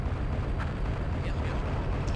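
A mobile bomb unit explodes in the strategy game Command and Destroy, a deep, rumbling blast that holds a dense low roar for a couple of seconds.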